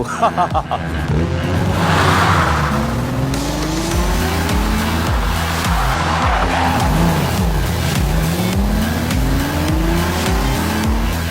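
A race car engine driving hard, with loud continuous revving, rising and falling engine tones and squealing tires, close and dominant throughout.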